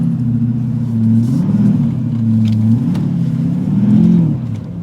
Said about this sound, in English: turn off traction control in the D-Max, click her in 4-wheel drive, which she already is, and go a little sidewards